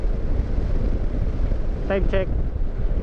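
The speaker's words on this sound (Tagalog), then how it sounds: "Presko, ang sarap ng hangin." Steady fresh wind roars over the microphone while riding along a winding road in Talisay, Batangas, continuous and loud, with someone briefly speaking over it.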